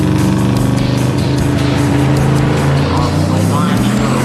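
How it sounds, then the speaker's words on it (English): A Camaro at the drag strip revs hard and spins its tires, with a loud, roaring engine, a rising whine and tire chatter throughout and a voice talking over it. "Alex Taylor coming up with her Camaro. Get some RPM and some smoke out of those tires."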